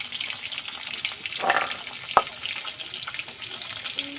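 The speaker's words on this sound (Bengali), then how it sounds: "এদিকে আমার মাছটা ভাজা হচ্ছে" Silver carp fries in hot oil with a steady, close sizzle and crackle, broken by a few sharper pops and a brief clink.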